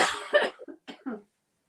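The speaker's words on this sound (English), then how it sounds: "I'm gonna cough just a second." A single person coughs a few times in quick succession, close and fairly loud, then silence.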